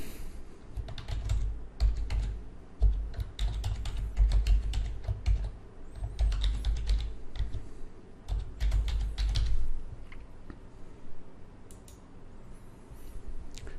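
Close keystrokes tap on a computer keyboard during a software installation, with clustered bursts of typing broken by short pauses and occasional sharper clicks, and no one speaking.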